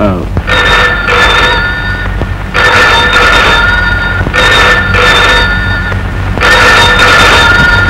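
A telephone rings loudly in four repeated double-burst rings with short gaps between them, close by and steady, in an office scene from a Kannada drama.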